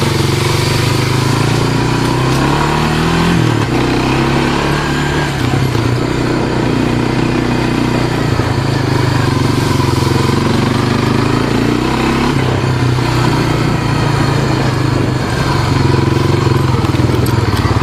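A 1998 Honda Foretrax 300 ATV engine runs close by on a trail, droning steadily with its pitch rising and falling as it is revved, and a faint rattle underneath.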